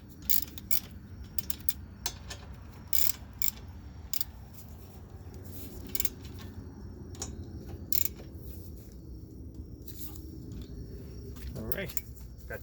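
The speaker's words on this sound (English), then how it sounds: "Tighten it up with my little ratchets for now" Small hand ratchet tightening bolts on the front brakes of a 2016 Toyota Camry XSE, faint close clicking and metallic ticks over a low background hum, in brief irregular bursts.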